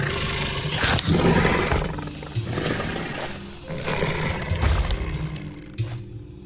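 A deep, rumbling dinosaur roar built from layered animal sounds such as elephant grumbles, plus human grunts, snorts and snarls, swells and fades in several long waves, loud and reverberant, with no talking.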